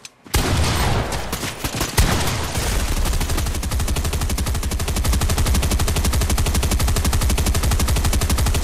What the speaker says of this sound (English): There's like a glitch, like there's a gun just going off for like 50 seconds.